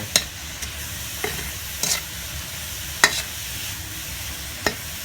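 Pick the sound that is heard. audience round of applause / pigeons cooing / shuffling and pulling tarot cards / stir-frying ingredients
stir-frying ingredients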